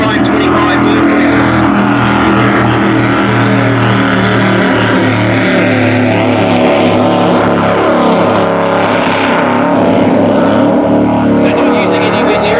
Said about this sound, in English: Listen to the difference in the sound of a Team 3 with the 525 Mercury.